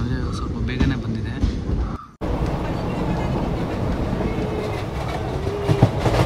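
Murudeshwar Express at night at Mangalore railway station, a steady loud rumble of rolling wagons and rail noise that drops out briefly and then resumes continuously, with faint voices around.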